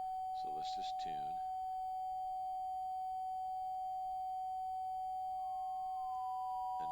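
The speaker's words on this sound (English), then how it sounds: "And now you hear the FT817, which is the higher pitched of the two tones." An FT817 radio sounds steady CW sine tones while being tuned in 10 Hz steps: a continuous pure tone beside a second, slightly higher spot tone that appears and shifts near the end, with brief background speech early on.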